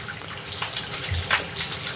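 Water runs steadily from a bathroom tap onto a toothbrush, a close, continuous splashing hiss with a brief brighter spatter partway through.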